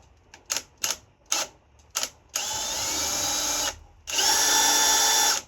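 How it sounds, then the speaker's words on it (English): A power drill bores a hole while a solar-powered sensor light is being installed: several short trigger bursts, then two longer steady runs of whining drilling, close and loud. "if you start with a normal drill until you get a foothold, you're more likely to stay on your target"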